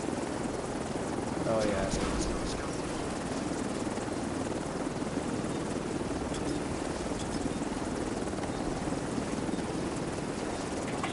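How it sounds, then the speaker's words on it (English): Helicopter rotor drone in the Division 2 video game as the extraction chopper arrives on site, a steady broadband whir filling the scene with brief speech over it. "Helo's ready for pickup. Helo's on site."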